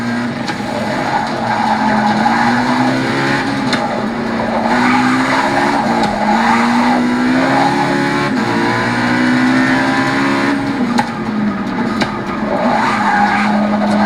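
A race car in a video game roars past another car, its engine revving steadily with screeching tire squeals throughout, loud and continuous with no talking.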